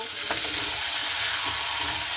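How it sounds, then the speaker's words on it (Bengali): Chicken pieces and fried potato being stirred and fried together in a pan, a steady close sizzle with soft scraping stirs throughout, no talking. "তো খুব ভালো মতো করে নাড়াচাড়া করে নিতে হবে।"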